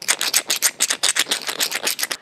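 Metal game coins rubbed together in the hand produce a rapid, continuous run of bright scraping clinks, close and fairly loud, with no talk.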